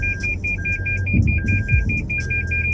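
A car's parking sensor beeps in a rapid, regular series of short tones, close by, with low rumbling vehicle noise underneath.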